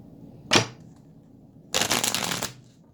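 Two bursts of cards being shuffled, a quick short riffle followed by a longer, denser riffle lasting under a second, close up with quiet pauses around them.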